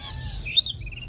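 A bird at an aquarium lets out a short, bright chirp close by, a quick squeaky call over a quiet, low background hum.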